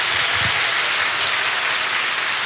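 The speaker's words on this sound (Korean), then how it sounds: "우리 지용훈 목사님 나오실 때 큰 박수로 환영하겠습니다" A church congregation applauds to welcome Pastor Ji Yong-hoon at a Christian lecture gathering, a dense, loud, continuous clapping wash that fills the room.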